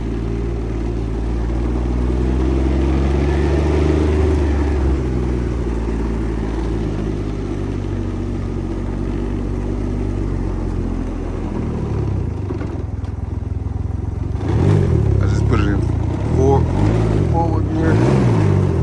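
A 2024 Can-Am Ryker three-wheeled motorcycle idles close by with a steady mid-pitched engine drone while backing up in reverse, the rumble shifting slightly in pitch, with a voice speaking over it near the end.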